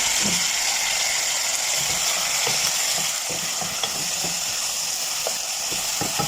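Chicken pieces fry in butter in a pan, sending up a loud, continuous close sizzle with faint crackles and small clicks throughout.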